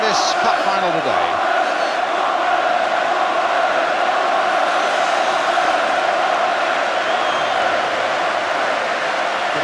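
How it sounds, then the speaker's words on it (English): Everton fans at the 1984 FA Cup final applauding Watford: a broad, steady roar of clapping and cheering from a packed stadium, sustained throughout, with a commentator speaking over it. "They're applauding Watford for their parts in this cup final today."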